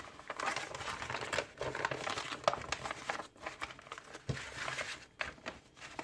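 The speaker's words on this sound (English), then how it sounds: "I'm going to fold one side across like this, and I'm going to fold the other side" Paper shopping bag being folded and creased by hand, producing close crinkling and crackling in irregular bursts with brief pauses between folds.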